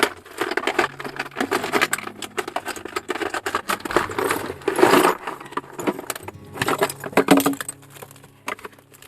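Keys jangle and clink in irregular bursts as someone rummages through pockets searching for a missing house key, with rustling and handling noises filling the clip and no speech.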